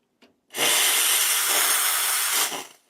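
Lelit Bianca espresso machine steam wand giving one long, loud, steady hiss after a brief click, close by, then tapering off, with no voices.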